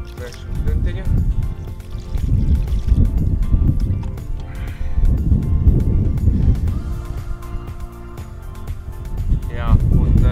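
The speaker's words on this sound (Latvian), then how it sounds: "Vēršu ūdentiņu." Water is poured over a freshly caught mirror carp at a fishery, a continuous splashing and trickling under a voice talking throughout.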